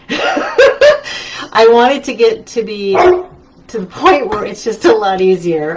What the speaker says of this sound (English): oh, I'm sorry about my dog.